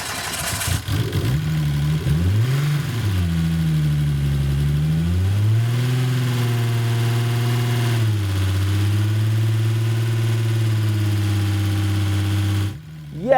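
Freshly built VR6 turbo engine firing up and settling into a steady idle, a loud close rumble whose pitch climbs and wavers at startup before holding a fairly even idle, cutting off abruptly near the end.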